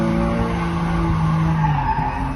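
A BMW E36 drifts sideways, its tires squealing in a sustained, loud screech with wavering tones over the engine's rumble, heard close from the passenger seat.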